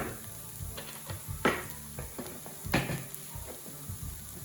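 Diced onions sizzle steadily in a pan while cooking for rogan josh meatballs, with a continuous soft crackle broken by a few louder stirring scrapes.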